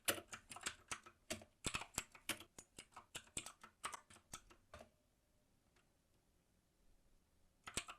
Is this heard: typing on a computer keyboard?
yes